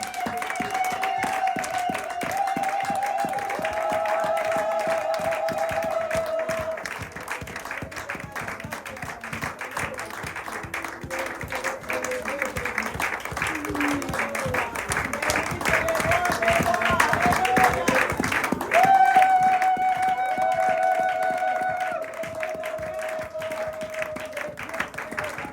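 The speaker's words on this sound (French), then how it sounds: "des acclamations. Maboko mpenza ekoki." A church congregation at a Sunday worship service in Sherbrooke, Canada, claps and cheers steadily for about 25 seconds. Sustained musical tones run under the dense clapping, which swells louder near the end.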